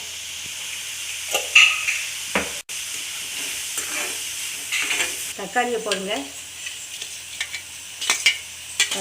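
Onions with ginger garlic paste and a pinch of salt sautéing in a pan give a steady close sizzle with scraping stirs, while a voice talks briefly.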